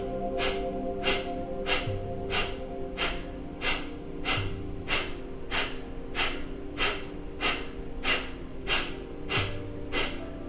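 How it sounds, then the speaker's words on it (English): Kapalabhati yoga breathing during a core-strengthening solar plexus class: a steady series of about fifteen sharp, forceful nasal exhalations, evenly spaced and close, with soft background music underneath. "coming to Kapalabhati breathing or long, slow, deep breathing if you've had enough"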